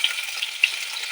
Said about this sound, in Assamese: এই কেৰাহীত অলপ ৰিফাইন দিলোঁ, তাৰপিছত মই এতিয়া দিম আপোনাৰ পিঁয়াজটো দিম